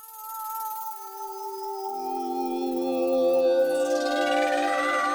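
A slow, eerie UVI Falcon synthesizer atmosphere pad swells with drifting tones and shimmering, sweeping upper layers, spacey and otherworldly, with no talking.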